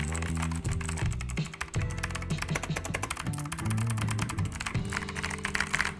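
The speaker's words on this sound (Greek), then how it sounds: "Το blue γενικά, όταν το βλέπετε στα πληκτρολόγια, σημαίνει ότι είναι η μηχανική διακόπτες οι οποίοι ακούγονται." A mechanical keyboard with Blue clicky switches typed in quick, irregular bursts of sharp clicks and clacks, close-up and fairly loud, with no talking.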